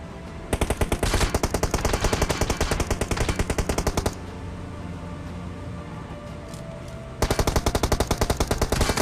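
M249 machine gun in PUBG Mobile firing long, loud, rapid automatic bursts, a sustained rattle of evenly spaced shots that pauses for about three seconds before a second extended burst.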